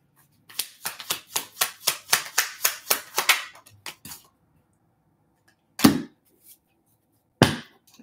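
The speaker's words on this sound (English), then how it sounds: "Clap for the lovers." A single person claps their hands in a quick, steady run of about ten close, sharp claps. A few isolated slaps or knocks follow after a pause, in an otherwise quiet room.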